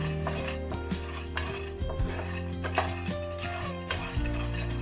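Roasted peanuts scraped from a pan into a bowl, with a run of close, clattering metal-on-metal knocks and scrapes of spoon against cookware at an uneven rhythm.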